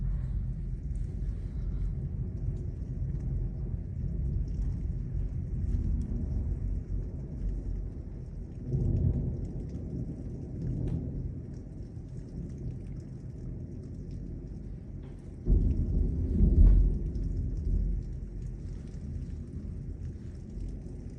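Severe thunderstorm with rain, high winds and quarter-sized hail in Lubbock: steady rain and wind noise under low rumbles, with two heavier bursts of rolling thunder.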